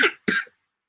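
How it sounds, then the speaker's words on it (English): A person coughs twice in quick succession, close and loud, each burst short and raspy with a small pause between. "Why am I coughing?"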